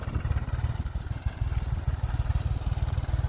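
A farm tractor's engine runs in a village, a low, even chugging throb that holds close and steady with no voices over it.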